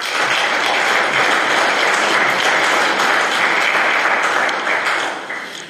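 An audience at a 25 April commemoration breaks into sustained, dense applause, loud and even throughout before tapering slightly at the end.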